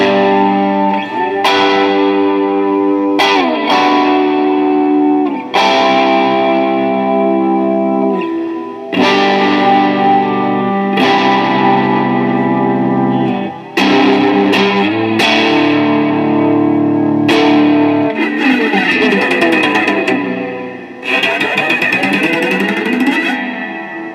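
An electric guitar runs through an EHX Cathedral reverb pedal on its Grail Flurb setting, with strummed chords swelling into a lush, shimmering wash of long reverb and chorus-like modulation, played loud and alone.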